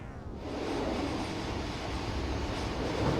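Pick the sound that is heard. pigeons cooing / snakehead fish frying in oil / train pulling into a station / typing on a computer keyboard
train pulling into a station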